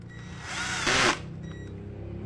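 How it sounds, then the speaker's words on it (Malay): A Ken 12V cordless drill driver set to torque 2 drives a screw in one short, close, steady whirr lasting about a second, with a brief louder burst near the end and no talk. "Kita gunakan torque 2 kita test untuk ikat skru"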